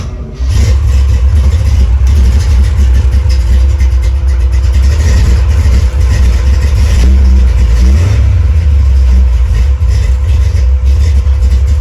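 Nova car engine idling after a push-button start, a loud, steady low rumble that holds throughout with slight fluctuations.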